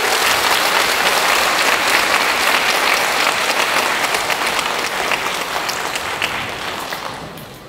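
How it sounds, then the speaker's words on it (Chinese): Warm, sustained applause from a concert audience at an orchestra performance, loud and dense, with no voices over it, slowly tapering toward the end. "请热烈掌声。"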